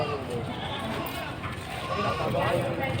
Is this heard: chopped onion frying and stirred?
no